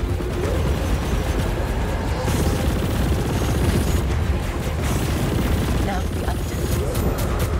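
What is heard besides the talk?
gunfire in video game Chorus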